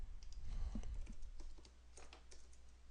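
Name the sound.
typing on a computer keyboard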